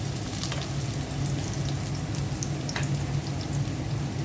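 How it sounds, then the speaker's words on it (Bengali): Chopped onions fry in oil in a pot with a steady, close crackling sizzle that holds even throughout, with no voices. "পেঁয়াজটা হালকা ভেজে নিলাম।"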